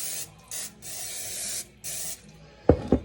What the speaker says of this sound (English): I'm going to spray everything kind of lightly with cooking spray